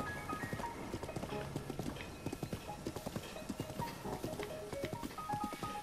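Rhythmic hooves clip-clop steadily at a trot from a horse in the video game The Legend of Zelda: Breath of the Wild, close and clear, with a few soft tonal game sounds mixed in.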